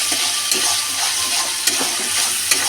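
Mustard and green chilli paste being stirred into tilapia frying in a pan for a mustard curry, a steady sizzle with a few sharp scrapes of the spoon, close and alone.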